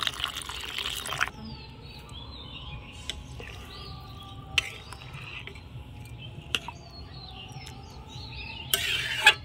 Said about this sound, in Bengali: একটু বেশি পরিমাণে জল দিতে হবে, যেহেতু সবজিগুলো আর মিলেটসটা সেদ্ধ হবে